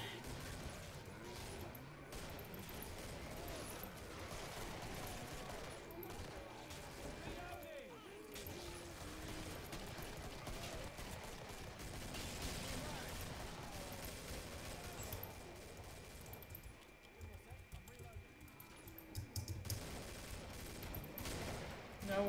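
Rapid, heavy gunfire from big guns in the shooter game Killing Floor, bursts of shots and crashes running continuously throughout, fairly quiet overall.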